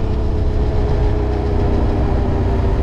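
A Yamaha Raptor 700 quad fitted with an MT-07 engine and an FMF exhaust idles with a loud, deep, even rumble that stays steady throughout, with no talking.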